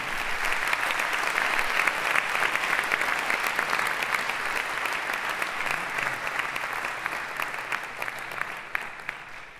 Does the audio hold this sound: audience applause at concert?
yes